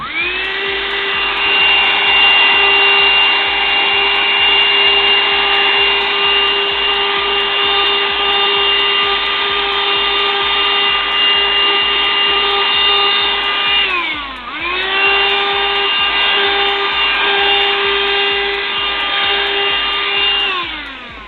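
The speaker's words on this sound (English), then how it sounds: "Oh no, he's vacuuming the board again." A vacuum cleaner cleans a Nintendo GameCube Platinum circuit board during a teardown, giving a loud, steady, close motor whine with strong tonal harmonics that briefly drops in pitch midway, then recovers and drones on alone.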